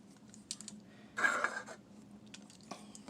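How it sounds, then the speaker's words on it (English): Small clicks and a brief plastic rattle as an AA battery is fitted into a Trackmaster Freddie toy train, with one denser burst of handling in the middle and quiet gaps around it, close by. "I'm going to put the battery in."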